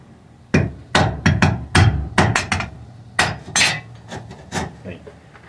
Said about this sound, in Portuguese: Fura a parede.